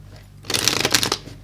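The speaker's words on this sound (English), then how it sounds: "one more shuffle." A single brisk riffle of tarot cards being shuffled lasts about a second, crisp and close, after a short quiet lead-in, with no talking over it.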